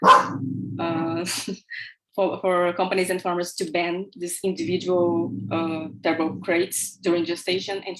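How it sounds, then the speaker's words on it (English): A pet dog barks close by indoors, in short bursts mixed with continuous talking. "sorry for my dog"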